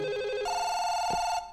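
A telephone rings in the Chinese horror video game Firework, its steady electronic tone sounding loud and close and continuing with no talk over it.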